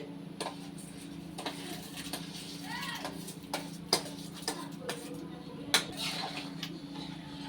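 A spoon stirs washed rice and vegetables in a cooking pot, making light, irregular scrapes and taps at close range over a low background hum.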